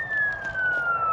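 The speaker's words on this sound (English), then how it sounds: "Oh, guys, we got some sirens going out here." Emergency vehicle sirens wail outdoors in southern Oklahoma, a single steady tone slowly falling in pitch, heard from a distance over faint background hum.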